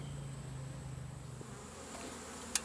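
Bees from a young hive being removed from an elevated spot buzz faintly and continuously outdoors, a soft droning hum with a small click near the end.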